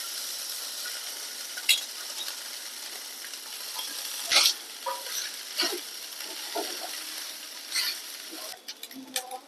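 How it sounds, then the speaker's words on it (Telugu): Cooked, cooled rice stirred into a sizzling garlic tempering in a pan: a continuous frying hiss broken by repeated scraping and stirring strokes from a utensil, close and moderately loud. "వెంటనే మనం ఉడికించి చల్లార్చుకున్న అన్నాన్ని ఈ తాలింపులో వేసి కలుపుకోవాలి."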